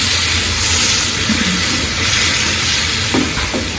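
Mushroom tawa masala simmers and sizzles in a pan after water is added, a loud continuous hiss and bubbling with no talk.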